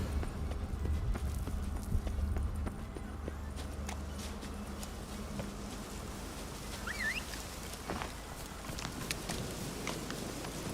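Roach, a horse in a video game, walks with steady rhythmic hoof clip-clops, fairly close and moderate in volume, over a low background hum, with a faint birdlike chirp partway through.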